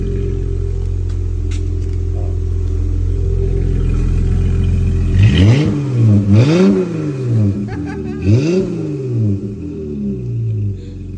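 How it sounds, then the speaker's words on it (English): Dodge Challenger with an MBRP aftermarket exhaust idling with a deep rumble, then revved hard three times in loud, rising and falling bursts at close range. "Oh, here, you'll need the key if you want to rev it."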